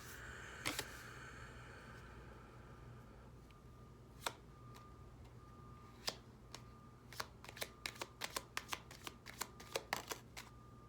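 Pocket-sized oracle divination cards being shuffled: crisp, close snaps and riffles that start sparse and speed up into a quick run of clicks over a faint steady hum.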